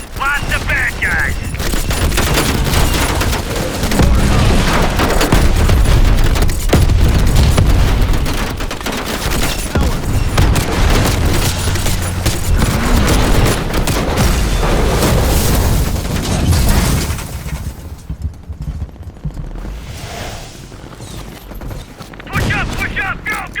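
Anti-aircraft guns and RPGs fire in Call of Duty Black Ops Cold War, a dense, loud barrage of booms and gunfire that runs without a break for most of the clip before thinning out near the end.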